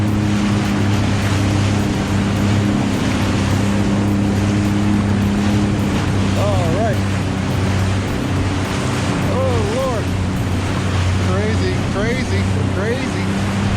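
A Sea-Doo GTX 155 personal watercraft engine holds at about 4,000 RPM against Niagara River rapids, a steady droning hum under continuous rushing water and wind noise, with faint rising and falling tonal whines.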